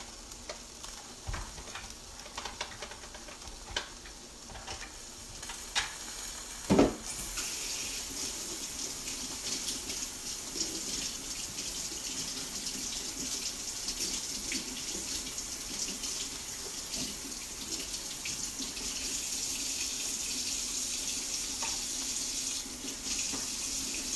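Tap water runs into a kitchen sink as a food container is rinsed, a steady close hiss of flowing water with occasional clunks and knocks of the container, louder and fuller in the second half.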